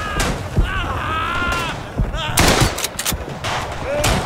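Rifle and machine-gun fire crack out in the WWI shooter Tannenberg, a run of sharp close shots spread across the clip with a booming report, mixed with battlefield noise and voices talking in the game.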